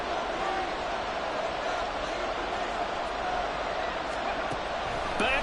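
Continuous loud stadium crowd roar at a Seahawks versus Ravens football game on third and ten, a dense steady wash of noise with a speaking voice likely mixed in.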